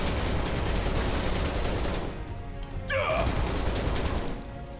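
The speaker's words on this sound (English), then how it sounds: "Oh, you can shoot those boxes, nice." Rapid gunfire from Final Fantasy 7 on PS4 blasts away at boxes in the Shinra Underground Research Lab, a dense, loud burst of shots that briefly drops off, gives way to a short electronic chirp, then resumes.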